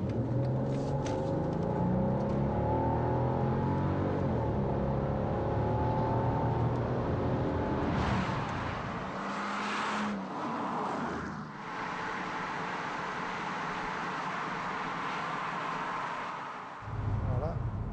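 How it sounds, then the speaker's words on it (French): A Brabus car accelerating hard up to 180 km/h, its engine note climbing steadily from inside the cabin before settling into a loud, even road rumble. "Voilà, sur une brève accélération, on était à 180."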